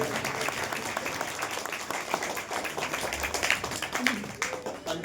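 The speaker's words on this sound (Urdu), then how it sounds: "تالیاں ہو جائیں" An audience at an Islamic seminary program applauds with steady, dense clapping that stays loud throughout, while voices speak faintly beneath it.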